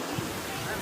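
Floodwater after heavy rain in a Gujarat village makes a continuous broadband rushing roar, close and steady, for under a second.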